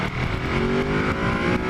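A Ducati Supersport S motorcycle engine revs on a ride, a loud, continuous close engine drone with rising and falling pitch.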